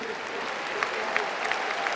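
Steady applause from a commencement audience at Rhode Island College's 2022 ceremony, honouring the master's graduates; dense, continuous clapping fills the hall throughout with a few sharper claps standing out.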